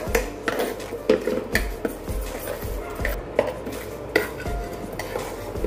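Urad dal roasts in a pan while a spoon stirs it, making repeated scraping and clinking strokes in an uneven rhythm against the metal. The sound is close and moderately loud, with a faint sizzle underneath.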